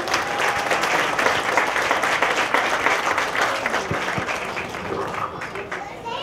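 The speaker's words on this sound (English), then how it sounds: "Let's give them a round of applause." A crowd at an outdoor community park dedication gives a steady round of applause, dense clapping throughout with a few faint voices underneath.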